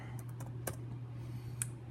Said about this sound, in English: hit Control-C on your keyboard to copy it